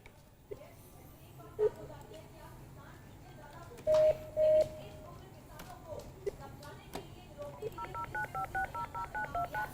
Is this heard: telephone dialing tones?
yes